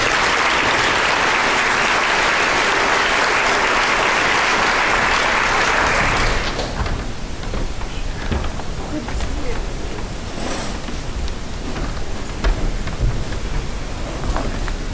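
Audience applause welcoming an award presenter to the podium at a business ethics award ceremony; a loud, steady roar of clapping fills the first six seconds, then fades to scattered claps and room noise.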